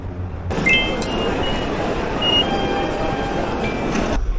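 Interior of a Tokyo commuter train in motion, a steady loud rumble of wheels and carriage with faint tonal squeals and brief clinks, continuous throughout.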